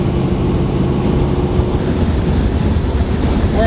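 Car engine fitted with a Street Demon carburetor at wide open throttle, a loud, continuous low roar mixed with heavy wind rush, steady throughout with no talking.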